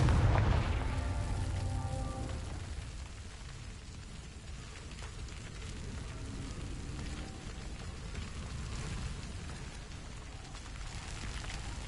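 Spell-blast explosion from Confringo in Hogwarts Legacy, a booming burst at the start that decays into a long crackling, rain-like rumble with no talk.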